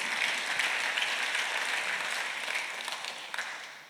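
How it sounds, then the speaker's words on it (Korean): A church congregation at a Korean Sunday worship service breaks into steady, dense applause, loud and sustained before gradually tapering off, with no voices over it. "박수 하세요"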